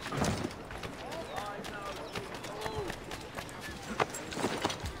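A horse gallops in Assassin's Creed 3, its quick rhythmic hoofbeats faint beneath a busy game soundscape with background noise throughout.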